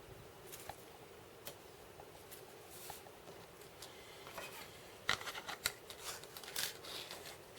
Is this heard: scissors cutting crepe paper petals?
yes